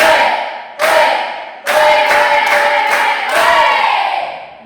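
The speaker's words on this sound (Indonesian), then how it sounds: "Tepuk semangat 1 kali, semangat 2 kali, lebih semangat" A class in a Catholic religious education teacher-training lesson does a rhythmic spirit-clapping routine: one loud clap, then a pair, then a burst of rapid claps mixed with group shouts, all close and punchy.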